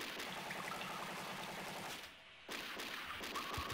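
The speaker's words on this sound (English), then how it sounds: "Heavy machine gun." Rapid, continuous heavy machine gun fire in the arcade game Metal Slug 3, loud and dense with a brief dropout partway through before the firing resumes.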